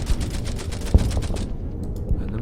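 Gunfire from the wartime strategy game Order of Battle comes as a rapid rattling volley of shots, loud and sharp with one heavier crack, before cutting off abruptly into quieter rumble.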